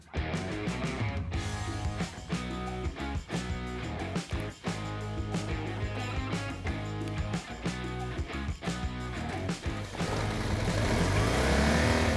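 Enduro motorcycle engine revving hard on an off-road ledge at a desert off-road park in the UAE, a loud, close, continuous snarl that rises and falls with throttle blips throughout.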